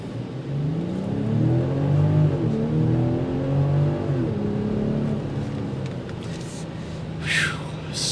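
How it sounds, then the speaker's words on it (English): A 2022 BMW X7 with a turbocharged inline six-cylinder engine accelerates hard, heard from inside the cabin as a smooth rising engine and exhaust drone that climbs through the gears with brief shift dips, muted but steady, without talking. "You get a little bit of that exhaust note."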